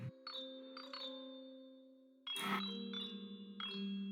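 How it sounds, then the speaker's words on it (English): Eerie chime tones in a creepy song heard during a tabletop Curse of Strahd session, ringing sustained notes that fade, then a louder struck cluster and further soft chimes, with no talking. "The song is creepy because all I can hear is like the chimes"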